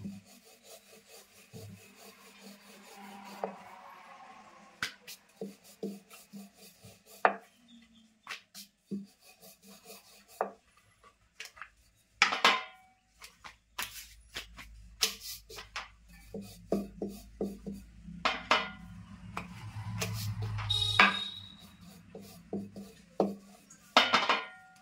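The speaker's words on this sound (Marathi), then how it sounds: "आणि साईडने अशी लाटणं घेऊन लाटायचं" A rolling pin rolls out chapati dough on a board, producing repeated soft wooden rubbing and thudding strokes at an irregular pace, close and fairly quiet, with occasional clinks of utensils.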